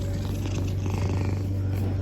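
A cat named Simba purrs close up, a steady low rumbling drone amplified loud, continuous and unbroken throughout.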